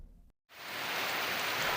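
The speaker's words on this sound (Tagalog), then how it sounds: "nibundak ang kusog sa ulan" Heavy rain pours down in a strong wind, a loud, steady rush of broadband hiss that swells in after a brief moment of near silence and then holds unbroken.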